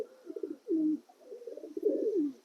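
Homing pigeons coo close by in soft, throaty repeated calls, a few low bubbling phrases over a quiet background.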